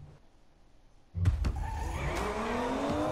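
Race car engine from Need for Speed Payback starts quietly, then roars up loud at about a second in with skidding tire squeal, holding a steady high-revving drone to the end.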